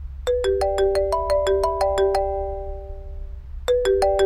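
A phone ringtone plays a bright, repeating melodic pattern of tones, loud and close, pausing briefly before starting again, with no talk over it.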